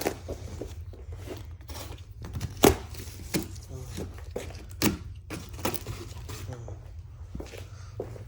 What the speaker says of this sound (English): the first box here that I'm going to be cutting up will be the outer shell